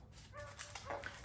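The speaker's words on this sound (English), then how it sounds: "sorry about the dog barking in the background" A dog barks in the background outdoors during a pickup wheel-spacer job, giving a few quick, faint yips and whimpering barks at a moderate distance, heard alone with no one talking.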